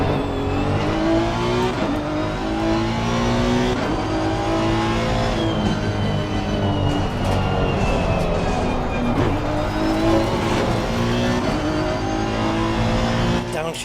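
A race car engine in a sim racing game, Automobilista 2 or Assetto Corsa Competizione, revving loud and constant with rising and falling pitch as it shifts through gears, with tire noise underneath and no speech.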